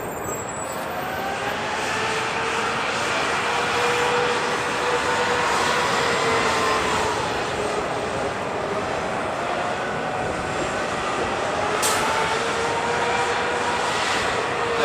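A WestJet airplane passes at LAX airport with a loud, continuous engine roar that holds steady and close for the whole stretch.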